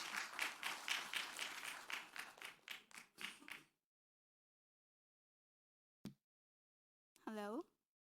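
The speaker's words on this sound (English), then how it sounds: "So let's give her a round of applause." Audience applause for a speaker at a diabetes conference: a burst of brisk clapping that fades out after a few seconds into silence, followed by a brief voice.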